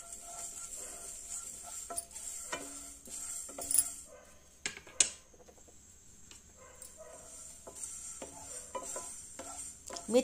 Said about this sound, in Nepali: अब एकैछिन मेथीलाई भुट्नु पर्छ।